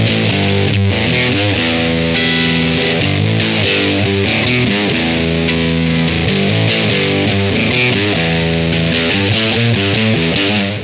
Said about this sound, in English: playing with this fuzz is a lot of fun